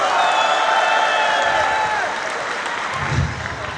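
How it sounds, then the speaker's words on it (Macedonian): Applause from an audience at a hip hop awards show, dense clapping and crowd noise that starts strong and gradually thins out, with a faint bit of crowd chatter beneath. "Нека дате аплауз мажите."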